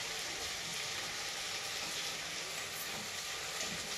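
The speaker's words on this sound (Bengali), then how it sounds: "এইভাবে মশলা দিয়ে আর কিছুক্ষণ ভাজা হবে" Spices frying in a pan for a kochu pui (taro stem and Malabar spinach) curry, giving a steady, fairly faint sizzle that runs without a break and sounds like soft hiss or rain.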